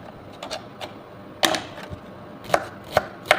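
Bitter gourd (ampalaya) being cut with a knife on a board, several sharp separate chops spaced irregularly over a quiet background, close and fairly loud.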